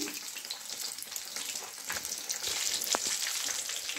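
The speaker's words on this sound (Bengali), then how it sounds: "ভালো করে দুটো সাইডই ফ্লিপ করে ভেজে নিয়েছি" Fish fries in oil in a pan over a medium flame, a steady loud sizzle with crackles and a few sharp pops.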